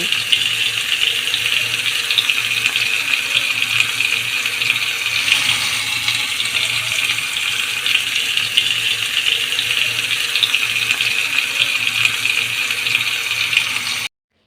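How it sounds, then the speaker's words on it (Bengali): Chicken pieces for tandoori dropped into well-heated oil in a pan on a stove, giving a loud, steady hiss and crackle that runs unbroken and close for the whole stretch, with no voices. "এবার চিকেনের পিসটা তেলে দিয়ে দিব"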